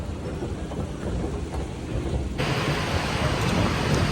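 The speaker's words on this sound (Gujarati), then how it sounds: "બહાર વરસાદ આવે છે ફૂલ" Steady, dense rain hiss fills an outdoor scene in cold Canadian weather, growing noticeably louder and brighter partway through, with a low rumble underneath.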